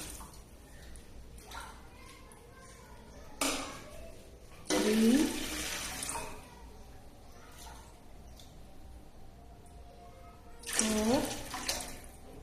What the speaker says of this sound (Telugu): సిక్స్ గ్లాసెస్ ఆఫ్ వాటర్ అయితే వేసుకున్నా.